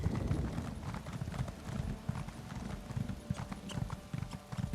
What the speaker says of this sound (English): look at that horse go